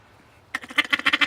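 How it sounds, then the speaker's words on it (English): Handmade duck call carved from wood taken from a beaver dam, blown after a brief quiet moment into a fast string of loud, close, raspy quacks that run to the end. "this duck call out of wood that I got out of a beaver dam."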